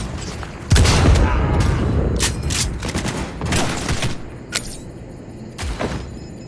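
Cyberpunk 2077 gunfire: a loud burst of shots opens, followed by several more sharp gunshots spread out over a few seconds, with some background combat noise.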